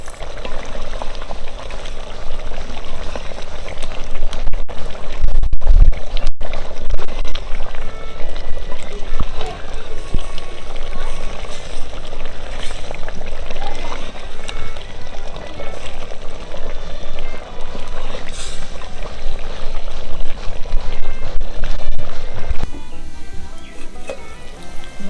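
Country chicken curry cooking in a clay pot, a loud, steady bubbling and sizzling that runs continuously up close, with a brief sharp knock partway through.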